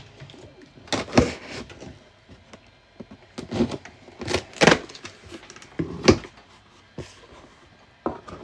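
A heavy cardboard box from Bamboo Labs, holding 3D printer filament, is cut open with a string of sharp slicing and tearing bursts, some near and loud, separated by brief pauses; nobody speaks.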